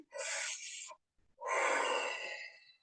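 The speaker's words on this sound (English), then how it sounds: "Make sure that you take in a couple deep breaths in" Two deep breaths heard close and clear, a long airy inhale followed by a pause and then a fuller, longer breath trailing off softly, with no talking.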